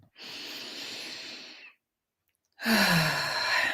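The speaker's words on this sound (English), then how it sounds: "Take a nice deep breath" A slow, deep breath drawn in and released, two long airy rushes separated by a short silence, close and fairly loud with no talk.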